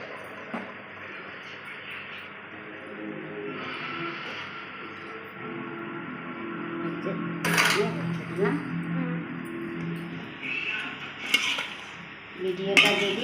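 A cooking pot of meat being taken off a home stove, with a few sharp metallic clanks near the end over a steady background hum while a person talks.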